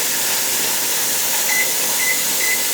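Steam venting steadily from a pressure canner while carrots are being canned, a loud continuous hiss with a faint whistling tone rising near the end.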